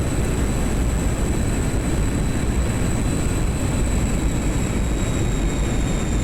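A simulated aircraft engine in the DCS flight game drones loud and unbroken for the whole stretch, a dense rumbling roar topped by a thin, steady high whine, with no speech over it.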